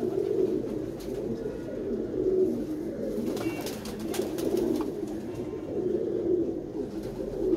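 An old pigeon, three to four years of age, coos repeatedly in low, throaty rolling calls, close by, with faint background noise between the phrases and no talking.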